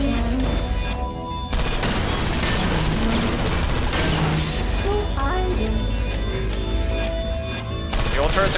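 Turrets in a Portal mod fire rapid automatic bursts, loud and close, in a dense fusillade mixed with crashing effects, while a voice speaks over the gunfire.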